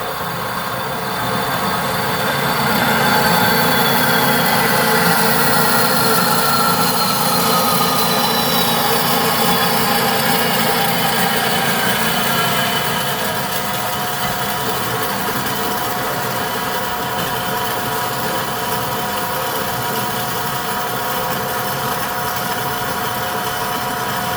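A band saw cuts through 40 x 20 mm steel tube with a 2 mm wall, giving a steady loud mechanical whine and grinding hum that runs continuously, easing slightly partway through as the cut progresses.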